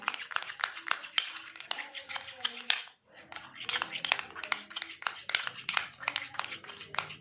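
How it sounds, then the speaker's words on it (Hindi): A metal spoon clinks and scrapes rapidly against a bowl while a homemade ringworm remedy is stirred, close and repeated with a brief pause, and a voice talks over the stirring. "बहुत अच्छे तरीके से मिक्स करेंगे इसको हम"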